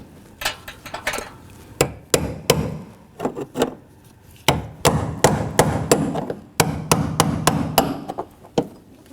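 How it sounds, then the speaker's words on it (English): A hammer strikes a brass punch in repeated sharp, ringing blows while locking a fuel transfer unit on a Nissan Murano 3.5L V6, some single and some in quick bursts, close up with brief pauses. "Use your hammer and brass punch to lock this in again."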